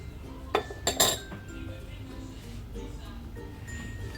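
A utensil clinks against a bowl a few times while a salted, peppered mixture of potato and eggplant is stirred, then the scraping settles into a quiet kitchen hush.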